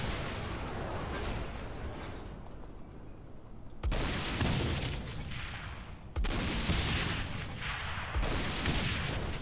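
Gunfire in the action game Saints Row IV: loud, dense bursts of shooting that cut in and out in several long volleys, close and harsh, with no talking.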